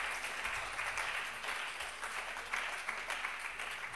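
Audience applause at a talk with an architect, steady dense clapping from a room full of people, moderately loud and sustained throughout with no speech over it.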